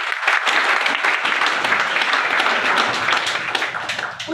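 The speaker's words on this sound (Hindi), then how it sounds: "इन लोगों के लिए एक बार जोरदार ताली।" Loud, dense applause from an audience at a leadership speech event, sustained clapping throughout with no pauses.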